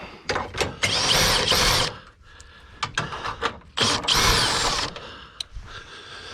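A power tool with a short socket zips out the headlight bolts on a 2007–2014 Chevy Silverado in several loud, whirring bursts of one to two seconds, separated by quieter rattles and handling clatter.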